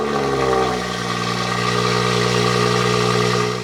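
A BMW 340i with a chopped, loud exhaust drones steadily up close, its deep, rich engine tone holding a constant idle-like hum after a slight dip in pitch early on.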